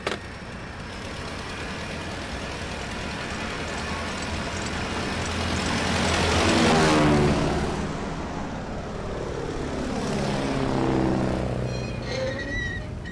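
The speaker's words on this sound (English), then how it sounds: "We are clear for takeoff." An airplane takes off with a rising roar that swells to a loud peak mid-way, eases slightly, then builds again as the engines sweep past, steady jet noise throughout with no speech.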